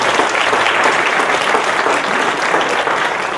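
A church congregation at a Sunday service breaks into sustained, loud applause, a thick steady patter of many hands that tapers slightly at the end, with no talk over it.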